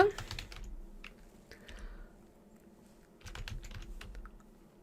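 Typing on a computer keyboard while entering a spreadsheet formula, with soft clustered keystrokes in two short bursts separated by a quieter pause, faint and close.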